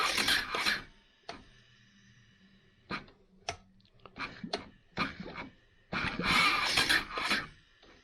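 A 2005 Honda CRF450X starter tries to crank with suspected starter gear problems, making short, harsh grinding and scraping bursts broken by pauses and clicks, close and fairly loud, with longer grinding at the start and the end.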